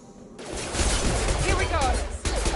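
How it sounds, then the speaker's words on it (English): Fenris mechs lay down heavy gunfire in the video game Mass Effect 2: a dense, loud, continuous barrage begins abruptly and roars on with brief gaps, while a voice speaks over it. "Taking heavy fire!"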